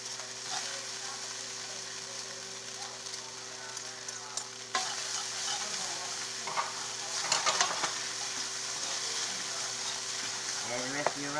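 A spoon stirs a pot of stew of green tomatoes and squash with bouillon and rice, scraping and sloshing steadily over a constant low sizzle and hum, close by.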